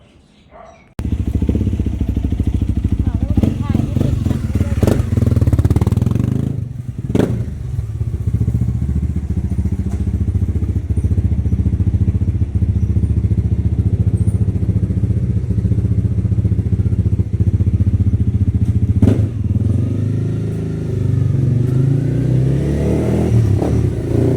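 A Honda CRF300L motorcycle fitted with a new 13-tooth front sprocket rides and accelerates, its loud, close engine droning steadily throughout with a few gear changes and brief revving swells, and no talking over it.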